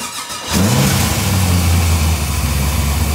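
A car engine cranks and catches, then settles into a steady, loud running idle with a low throbbing hum, freshly fitted with new valve seals and running well.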